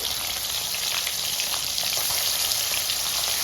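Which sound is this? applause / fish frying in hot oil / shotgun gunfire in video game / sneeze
fish frying in hot oil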